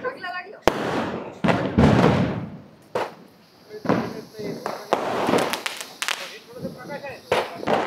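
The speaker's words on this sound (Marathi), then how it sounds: "आता फटाके फोडू आपण" Firecrackers burst during Diwali celebrations, a series of sharp, loud bangs and cracks at irregular intervals, some close and some farther off, with people talking between the blasts.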